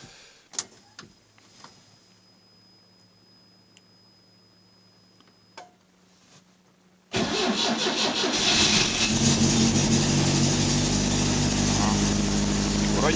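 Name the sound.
car engine starting in cold weather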